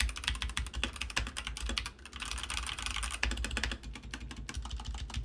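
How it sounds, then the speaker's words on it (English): Typing on a Red Dragon K530 computer keyboard: quick, close, irregular key clacks in a steady flurry, with one brief pause in the middle, and no voices. "let's get a typing sound and feel test. The Red Dragon K530 first."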